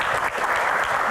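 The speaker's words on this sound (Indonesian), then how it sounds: "Kita berikan tepuk tangan yang paling meriah." An audience at a Q&A talk event claps in a brief, dense burst of applause, loud and continuous for about a second.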